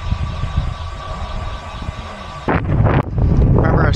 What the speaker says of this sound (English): Remember I was talking about the headwind? Yeah, it's starting.